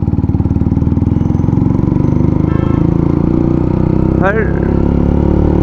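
A Hero Xtreme 125R motorcycle fitted with an Akrapovic full-system exhaust idles with a deep, booming, pulsing note, then one quick rev blips over the steady throb.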